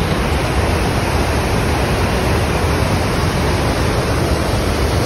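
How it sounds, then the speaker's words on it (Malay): Constant, dense roar of rushing water from a waterfall in Nepal, loud and unbroken, heard from close range with no voices. "kita dah sampai dekat air terjun"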